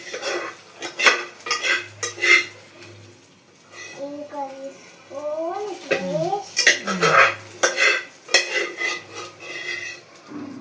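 Pulihora stirred in a pan, with clinking metal utensil scrapes and pot knocks coming in bursts while an adult and someone talk over them.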